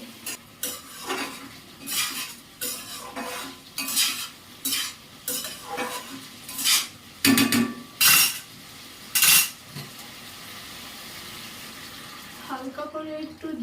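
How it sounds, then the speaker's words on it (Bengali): Ridge gourd, potato and prawn curry being mixed in a pan, a series of rhythmic scraping strokes of a metal spoon against the pan over a low sizzle, about a dozen strokes, then quieter clinks near the end. "সমস্ত উপকরণগুলো ভালো করে মিক্স করে ঢাকা চাপা দিয়ে ঝিঙে আলু দিয়ে চিংড়ি মাছের তরকারিটা রান্না করে নেবো"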